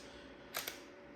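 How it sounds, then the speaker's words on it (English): A Nikon DSLR with a Yongnuo 50mm f/1.8 lens fires in live view, giving two quick, crisp clicks close together as the mirror and shutter close and open, alone against a quiet background. "whenever you're clicking, it has to close the mirror and then the shutter will be open for some time and then it will close"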